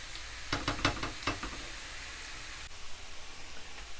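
Minced beef sizzles softly in a pan for a grilled baguette dish, with a few stirring scrapes and knocks early, then a quiet steady frying hiss.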